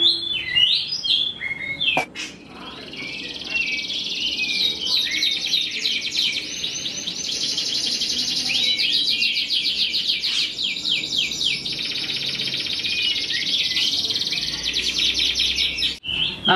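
A dense, continuous stream of bright, rapid chirps and trills from a general songbird training recording used for teaching caged birds, loud and close throughout with no talking.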